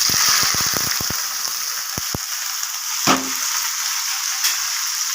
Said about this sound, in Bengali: আলুটাকে দিয়ে দেবো ভাজতে।